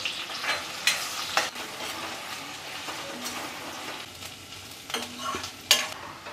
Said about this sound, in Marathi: यामध्ये आपण कांदा घालूया आणि कांदा आहे ना तो आपल्याला सोनेरी रंगावर परतून घ्यायचा आहे